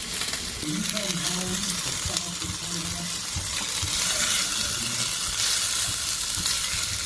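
Spices and oil sizzling in a Lodge 10-inch cast iron Dutch oven, a steady close hiss that swells louder over a few seconds, with faint clinks and some low voice sounds under it.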